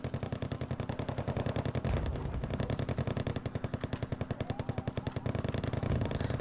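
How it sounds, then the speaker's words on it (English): Rapid, sustained machine-gun fire from Rangers shooting reservists in a real-time strategy game, dense regular bursts rattling continuously and loudly with no talk over them. "reservists, yeah, they're just gonna get shot up by the Rangers"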